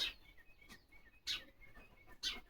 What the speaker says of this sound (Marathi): चिमणी ओरडती ना